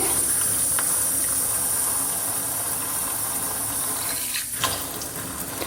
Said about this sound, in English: Now you can do this here and then rinse as needed.